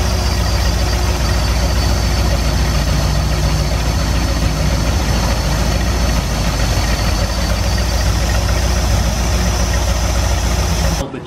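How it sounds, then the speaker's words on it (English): A marine inboard engine fitted with a Holley carburetor idles steadily during mixture adjustment, a loud continuous low rumble with no revving, holding even to the end. "you can do that just by revving the engine up a little bit"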